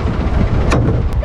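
A fishing trawler just back from sea with a catch of hilsa runs its engine in a steady, loud, broadband drone. The engine is close by and no voices are heard.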